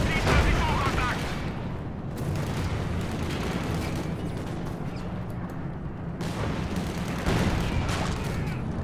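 Heavy mortar fire and explosions rumble through a Company of Heroes 2 multiplayer battle, dense and continuous with periodic louder blasts, under steady battlefield noise.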